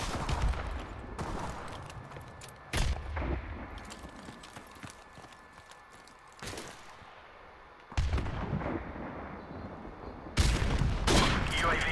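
Bursts of gunfire in the video game Call of Duty, sharp loud shots separated by quieter stretches of ambient battlefield noise, with heavier volleys near the end.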